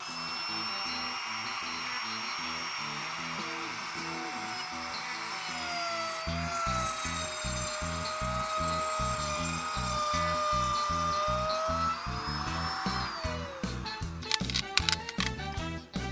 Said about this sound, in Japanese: トリマーを手前のストッパーまでスライドさせて、あとはトリマーを向こう側に走らせると、